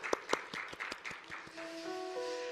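Church congregation applauds in thanks at the close of a sermon, a few sharp claps at first, then a steady spread of clapping while a sustained organ or keyboard chord enters underneath.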